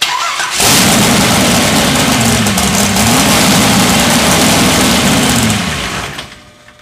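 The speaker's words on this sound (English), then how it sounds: "now we'll start the engine and you'll see it just takes a split second to fill the filter assembly" An engine with an oil filter assembly starts up abruptly, cranking and catching into a loud steady mechanical roar for several seconds before quickly cutting off.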